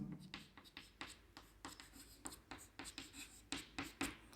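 Quick rhythmic marker strokes write a repeating sequence on a board, close and fairly quiet, a dense string of short scratchy taps and swipes with no talk.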